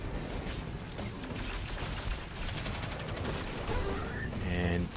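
Grenade blasts and rapid weapon fire burst from Destiny combat during a Dawnblade Nightfall run, dense overlapping explosions and gunshots with a rising electronic whine near the end.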